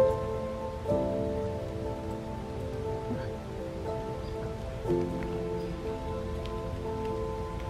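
Steady rain pattering on a surface, a constant close hiss with a low hum underneath and occasional soft thumps.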